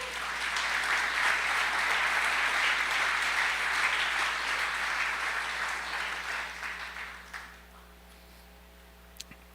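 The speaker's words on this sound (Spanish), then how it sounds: "¿Le puede dar otro aplauso a Dios por eso?" A church congregation gives sustained applause, a dense wash of clapping that swells and holds for several seconds before tapering off into a few scattered claps and near quiet.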